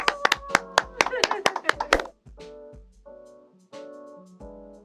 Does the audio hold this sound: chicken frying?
no